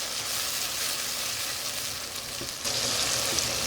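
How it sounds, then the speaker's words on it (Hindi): Chopped tomatoes frying in a pan, a steady, fairly quiet hiss and sizzle with no talking, growing slightly brighter near the end. "टमाटर को हम नरम होने तक पकाएंगे।"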